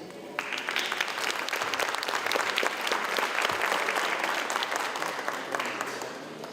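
Audience applause at a panel forum on Indigenous peoples in large cities, welcoming someone speaker; steady, dense clapping from a seated crowd that holds throughout, moderately loud and unbroken.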